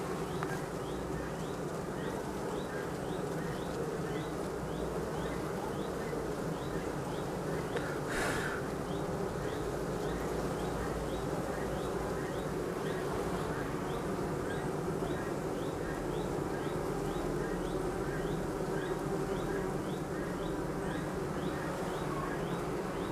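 A steady, dense drone of many young honeybees buzzing at a hive fills the scene, continuous and close, with a faint rhythmic ticking and a brief sharp click partway through.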